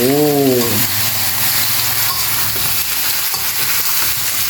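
Mung beans cook in a pot with a constant loud sizzle and stirring noise, and a brief tonal, voice-like sound rises at the very start.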